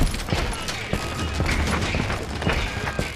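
Gunfire in the western shooter Call of Juarez: Gunslinger, with repeated loud revolver and rifle shots and booming impacts over a rumbling game soundtrack, someone briefly speaking.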